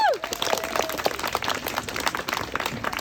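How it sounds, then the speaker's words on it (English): Audience applause at a school board campaign kickoff event, a moderate crowd clapping steadily with a few cheers and voices mixed in. "a big round of applause for all of our speakers."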